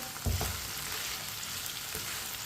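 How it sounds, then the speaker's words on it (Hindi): Okra fries in hot oil and is stirred with a spoon over a medium flame, making a continuous bright sizzle with a couple of soft scraping strokes near the start and again close to the end. "भिंडियों को ना इसी तरह चम्मच चलाते हुए फ्राई करना है।"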